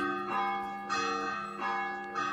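Church bells ring in a Spanish village in Extremadura, several strikes with sustained ringing tones overlapping in a steady rhythm, moderately loud.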